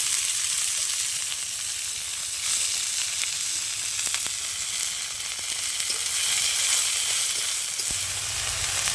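Kulfi greens fry with garlic and chopped chilli in a pan, a loud, dense, continuous sizzle with occasional stirring scrapes, close up, no voices.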